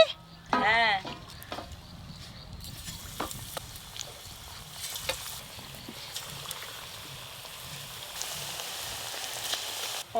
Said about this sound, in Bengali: তুমি ওইদিকে দেখতে থাকো আর এদিকে আমি ভেজে ফেলি